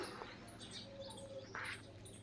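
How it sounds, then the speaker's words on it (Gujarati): Sparrows chirp faintly on a summer morning outside a home, a few short tweets and calls scattered over a quiet, low-humming backdrop. "જો ચકલીઓ"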